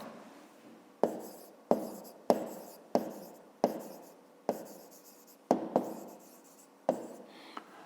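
A pen writes by hand while working through a fifth-grade math exercise, with about ten crisp scratching strokes in an irregular rhythm, close and clear against near silence.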